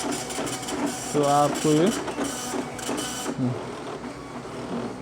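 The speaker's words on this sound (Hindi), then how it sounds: "आप देखिए मैं प्रिंट मारूंगा" A TVS MSP dot-matrix printer printing on paper, buzzing in short rhythmic bursts of mechanical chatter with pauses between lines, while someone talks nearby.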